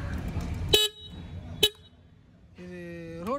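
A Yezdi Scrambler motorcycle's horn sounds in two short, sharp honks about a second apart, close and loud, followed by a rising engine or motor tone.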